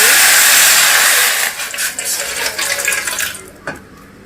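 Water poured into a pot to be boiled for a herbal cough remedy, a loud steady gushing stream for over a second, then fading to softer splashes and trickles before stopping.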